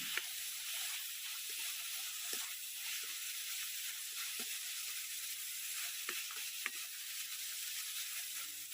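A soft, steady sizzle from onion and chopped tomato in a hot pan, with light scraping stirs and small ticks of a spoon against the metal, fairly quiet and close.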